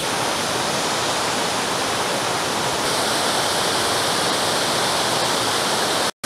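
Roaring mountain waterfall near the Chalets de Sales at Sixt in the Haut-Giffre valley, a loud, steady broadband rush of falling water that holds constant throughout and cuts off abruptly at the very end.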